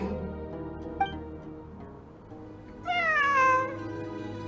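A cat meows in the video game Genshin Impact, one clear drawn-out meow rising out of a steady game soundscape, with a brief higher chirp just before it.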